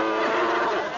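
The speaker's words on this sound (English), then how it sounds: "Now, Scooter, would you erase that cow?" A cartoon cow gives a single short moo, loud and close, filling the whole brief moment with a buzzy, nasal tone.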